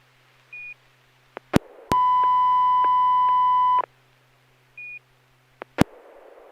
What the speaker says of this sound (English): there's a tone.